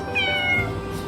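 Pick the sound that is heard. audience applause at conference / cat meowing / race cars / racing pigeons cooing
cat meowing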